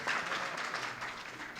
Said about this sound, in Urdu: اس شعر پر زوردار تالیاں بجنی چاہیے یقین فیض آبادی صاحب کے لیے